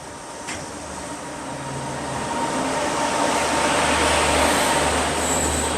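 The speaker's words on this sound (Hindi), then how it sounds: "बीना जंक्शन पे ये कोई ट्रेन आ रही है बगल से" A Goa Express train arriving on the adjacent track at Bina Junction, a steady rumbling roll that grows louder and nearer over several seconds, with a brief sharp clank early on and no talk.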